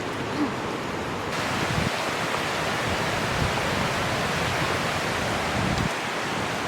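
Mae Ya waterfall in Chiang Mai, Thailand, pours as a steady, loud, unbroken rush of falling water, heard up close for several seconds with no talking.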